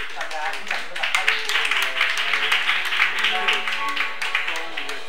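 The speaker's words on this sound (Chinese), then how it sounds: "大家鼓掌鼓掌，欢迎" A congregation at a Sunday church service claps to welcome newcomers, a scattered patter of applause running under continuous speech.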